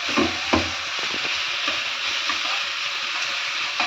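Upma fries in a pan with a steady close sizzle, broken by a few scraping, clattering knocks as a spoon stirs the mixture, with no voices.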